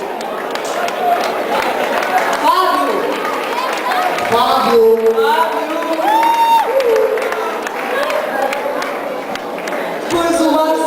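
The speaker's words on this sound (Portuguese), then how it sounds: "Palmas para o Fábio." An audience at a pop/rock band contest applauds and cheers steadily for singer Fábio as he is called to the stage, with a loud announcer's voice speaking over the crowd noise.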